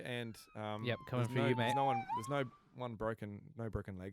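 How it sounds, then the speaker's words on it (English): Ambulance siren passing outside a podcast room, a faint wailing tone gliding under continuous close male speech. "if you can hear that, there's an ambulance going by"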